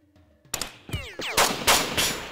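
Several loud gunshot bursts in the video game Jagged Alliance 2 crack out in quick succession after a quiet start, sharp and close, with ricochet and whizzing sweeps between shots.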